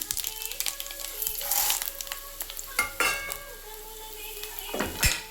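Cumin, mustard seeds and dried red chilies crackle in hot oil for a poha breakfast, a soft steady sizzle broken by sharp seed pops and a few metal clinks from a pan and spoon.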